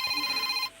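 A Facebook Messenger call ringtone chimes loudly and steadily for most of a second, then cuts off abruptly and goes quiet.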